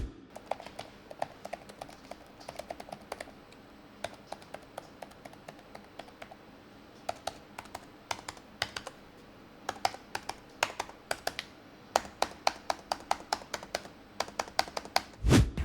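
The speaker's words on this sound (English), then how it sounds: "Here's a sound test of the keyboard." Fingers type steadily on the keyboard of an MSI Delta 15 gaming laptop with a Ryzen 9 5900HX, giving quick, close, crisp key clacks in uneven bursts with short pauses and a heavier thump at the end.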